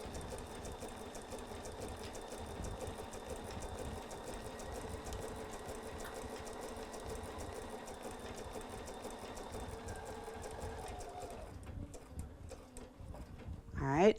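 A sewing machine runs steadily for a long stretch, stitching machine appliqué up the side of a fabric piece, then stops near the end as quieter handling noises take over.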